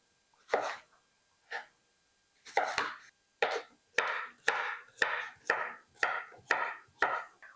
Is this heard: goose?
no